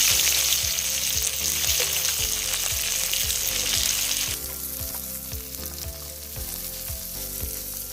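Chopped onion fries in a little oil with marinated chicken for an old-style mango chicken with kasundi mustard, giving a loud, steady sizzle punctuated by regular scraping strokes of a spatula.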